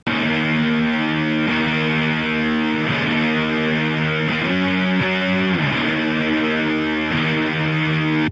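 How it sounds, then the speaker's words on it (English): Fuzz guitar tone built with the JST Bassforge Hellraiser plugin, thick distorted sustained chords played loud with a few changes and slides, solo with no other instruments or voices. "So here are the guitar tones soloed,"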